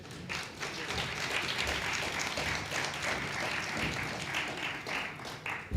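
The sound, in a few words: audience applauding Fede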